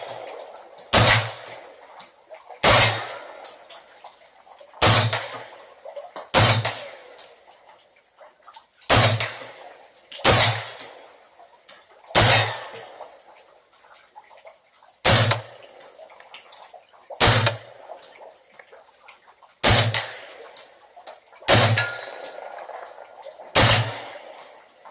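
An AR-9mm rifle fires thirteen sharp, loud shots at uneven intervals of about one to three seconds, each a crisp crack with a short decay, outdoors with light background noise between shots.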